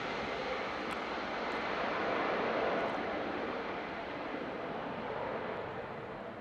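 A Lufthansa Group airliner's engines rumble at a distance at Manchester Airport, a faint, steady broadband roar that swells slightly in the middle and eases toward the end.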